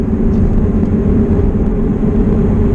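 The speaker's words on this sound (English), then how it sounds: "Tires are making a little bit of noise." Steady loud rumble of tires rolling on pavement from inside a moving JDM G-Limited Toyota SW20 MR2 on a cold day, a constant low roar with no talking.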